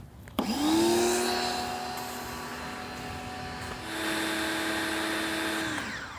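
A Ryobi pressure washer runs on a new hose, starting abruptly with a loud, steady mechanical whine and drone that shifts slightly in pitch partway through before cutting off near the end.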